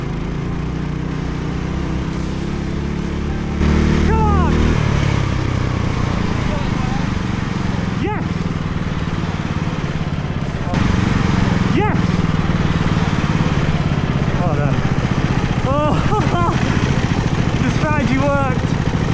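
A small racing lawnmower's engine drones steadily through a race, its pitch rising and falling with throttle changes and gear shifts, with crowd or commentary voices layered on top and a louder stretch near the finish.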